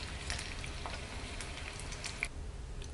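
Maggi poha cutlets frying in hot oil, a steady soft sizzle with scattered pops and crackles, close and continuous throughout.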